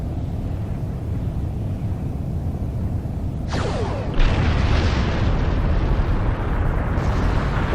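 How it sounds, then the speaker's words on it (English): A plasma torpedo explodes in the Star Trek Online space game: a sudden sweeping blast about halfway through, followed by a loud, rumbling boom that carries on under the steady hum of the game. "Plasma torpedo."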